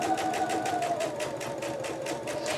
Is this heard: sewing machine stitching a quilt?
yes